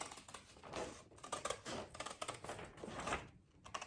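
Scissors snipping around the outline of a paper eye shape for a frog puppet, giving a quick run of crisp, irregular clicks and cuts, close and fairly quiet, with no voices.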